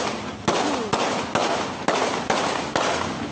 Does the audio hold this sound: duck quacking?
no